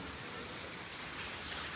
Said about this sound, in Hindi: ये देखो गाइस कितनी बारिश हो रही है